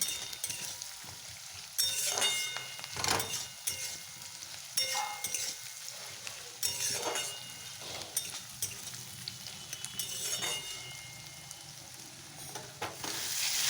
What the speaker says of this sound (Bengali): পেঁয়াজটা দেখো ভাজা হচ্ছে